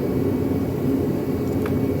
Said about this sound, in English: It's got my heater running in here.